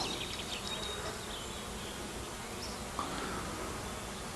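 Honeybees buzzing steadily around an active hive in early spring, a dense continuous drone close by with individual bees passing, no talk.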